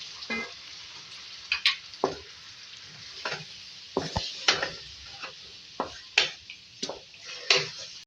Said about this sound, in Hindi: अब इसमें ऐड करेंगे मैरिनेट किए हुए बीफ। इसके बाद इसको हम कुक करेंगे कम से कम 4 से 5 मिनट।